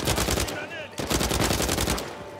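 Machine-gun fire in the video game Uncharted 4 comes as rapid, loud bursts of automatic shots, with a short gap and a brief whistling whine before the firing resumes.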